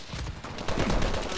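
Gunfire in Call of Duty Advanced Warfare during an online match: rapid, overlapping automatic shots crackle continuously and loudly for about a second and a half amid the busy din of battle.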